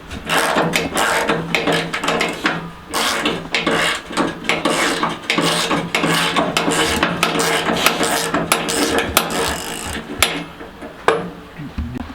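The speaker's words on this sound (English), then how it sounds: "okay, so we got this spindle cut off." A go-kart spindle on a two-stroke kart is cut off with harsh rasping, grinding strokes in a rapid rhythm, loud and close, continuing for several seconds.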